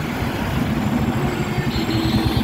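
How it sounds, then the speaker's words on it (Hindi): A New Holland 5630 four-wheel-drive tractor with a CRDI diesel engine runs steadily at raised revs, a close, continuous low rumble with a throbbing pulse and no talk over it. "आवाज बहुत ही शानदार और जानदार जो ये ट्रैक्टर की आवाज है"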